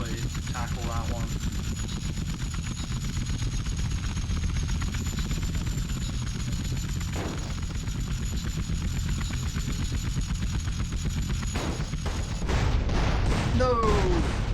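Damaged helicopter in GTA San Andreas, a steady loud rotor drone with rapid chopping texture running throughout, joined by gunfire bursts and a louder surge near the end.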